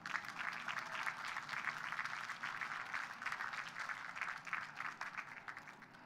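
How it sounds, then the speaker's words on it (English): An audience bursts into applause at a graduation-style gathering, many hands clapping in a continuous, moderately loud wash that holds steady throughout without voices on top. "So please give yourself a round of applause."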